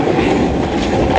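Train rolling past at a station in Milan, a steady, loud rumble with rhythmic clickety-clack of the wheels over the rails and no voices.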